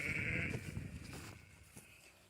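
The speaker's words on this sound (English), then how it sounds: "The sheep are in this pasture." A single faint sheep bleat in a farm pasture, a short wavering cry at the start that fades into quiet outdoor background with a few soft rustles.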